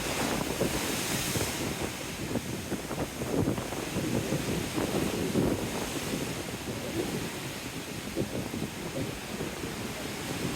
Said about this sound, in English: Lovely, the power of the sea.